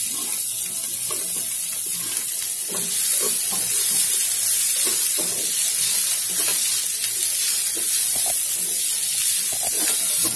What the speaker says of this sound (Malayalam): ഇനി വലിയൊരു സവാള ചേർത്ത് കൊടുക്കാം.